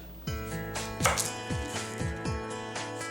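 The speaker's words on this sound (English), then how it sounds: "Let's start by dicing our medium sweet onion" A knife dices a medium sweet onion on a board in steady, evenly spaced chops, roughly two per second, with sustained background music underneath.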